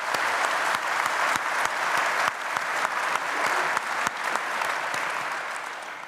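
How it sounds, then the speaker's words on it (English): Audience applause at a London business panel: steady, dense clapping from a large room throughout, with a few sharper individual claps standing out, fading slightly at the end. "So can we just have a quick round of applause before we start?"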